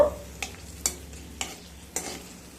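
Dried red chillies and nigella seeds stir in hot mustard oil under a faint, steady sizzle. A utensil scrapes the pan in about five distinct strokes at a loose, even pace, and no one speaks.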